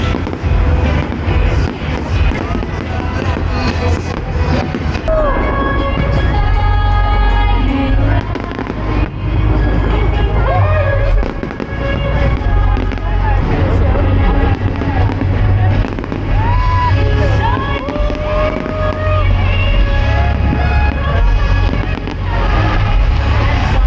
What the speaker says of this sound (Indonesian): Dari selesai nonton si kembang api,